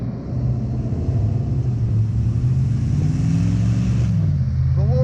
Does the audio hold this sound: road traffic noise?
yes